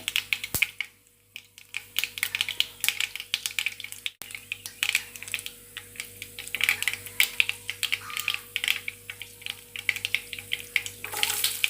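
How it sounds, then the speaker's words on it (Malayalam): Chopped coconut pieces fry in oil with mustard seeds, a dense, continuous crackle of small rapid pops and a soft underlying sizzle, close and steady. "അരിഞ്ഞു വെച്ചിരിക്കുന്ന തേങ്ങാക്കൊത്ത് ഇട്ട് ചെറുതായിട്ട് മൂപ്പിക്കാം."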